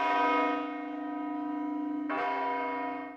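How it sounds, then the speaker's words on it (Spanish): Gabriela, the great bell of a cathedral in Navarra, rings at noon for the Angelus, with two loud, rich strikes whose long humming tones decay between them, clear and close. "al son de la campana Gabriela, cuando se ha abierto el nuevo acceso al museo"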